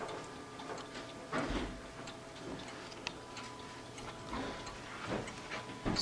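A Seth Thomas Brookfield banjo wall clock ticking, a steady, even run of close, moderately loud ticks over quiet room noise, with no talking.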